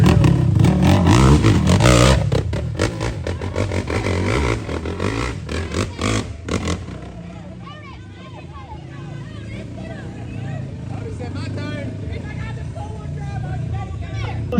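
Engines of dirt bikes and side-by-sides off-road at Mild 2 Wild in Kentucky rev hard and loud at first, then fall back to a lower rumble with wind and clatter while voices talk over it.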